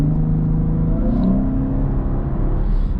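A 2019 Chevrolet Camaro 1LT with a 10-speed automatic cruises with a steady engine hum and road rumble, the tone easing slightly as it shifts, heard from inside the cabin without talking.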